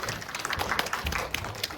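Brief, fairly faint applause from a lecture audience at a youth career talk, a short burst of many hands clapping.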